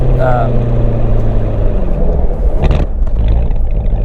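A manual Corvette C7 Z06 engine rumbles loudly and close during downshifts, with a sharp rev blip near the end and a voice partly audible over the engine.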